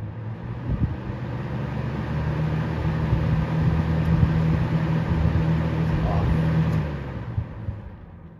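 An old electric fan motor running up on high speed, a steady loud hum with a low tonal drone and rushing air, holding level for several seconds before easing off near the end.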